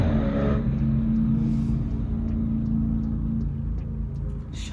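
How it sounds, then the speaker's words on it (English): Road traffic rumbles past at night, a low continuous drone of car engines close by with one vehicle gradually fading, and no talking. "Sorry for the traffic. It's literally 8:30 at night."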